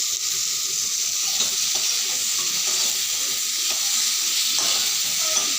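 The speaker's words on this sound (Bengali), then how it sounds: "চিনিটা দেওয়ার পরে এইভাবে করে কিছু সময় নাড়তে থাকতে হবে, কারণ না হলে ক্যারামেলটা পুড়ে যাবে।" Sugar caramel being stirred in a pan, a steady soft sizzle and hiss with scraping stir strokes throughout, close and moderately loud with no voices.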